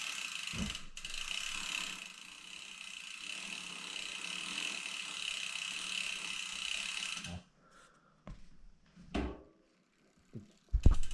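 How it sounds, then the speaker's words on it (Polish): A continuous fine ratcheting buzz as a bicycle crank spins and the freewheel clicks, then it stops, followed by a few sparse clicks and knocks. "Parę razy pokręcić korbą."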